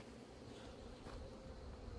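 Hornets swarming around beehives outdoors, a faint, steady buzzing drone of many insects with no voices.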